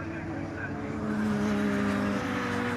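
A Radical SR1 race car engine drones at Brands Hatch, a steady buzzing tone that swells slightly midway, with a commentator talking over it.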